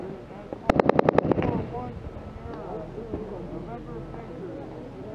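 Rapid burst of about eight gunshots during a combat patrol in Afghanistan, sharp close cracks in quick rhythm, followed by voices talking over faint background noise.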